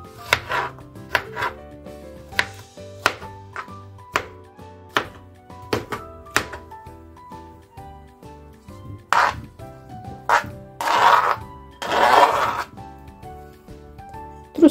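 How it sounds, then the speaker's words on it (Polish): Strawberries are chopped into small pieces with a knife on a board in sharp, evenly spaced thuds close by, settling into a quicker, denser run of cuts toward the end. "resztę truskawek kroimy na mniejsze kawałeczki"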